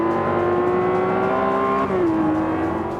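Car engine droning steadily in Forza Motorsport 5 racing game, a loud continuous hum with a slight pitch dip near the end as the gear or revs change.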